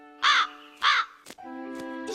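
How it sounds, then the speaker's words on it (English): A crow caws twice in quick succession, loud harsh calls close by, followed by a sustained tonal music-like tone with a couple of short clicks. "Best get to it before my crow picks a fight with your feathered friend."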